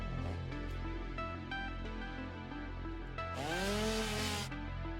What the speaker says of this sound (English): Let's go ahead and grab our chainsaw.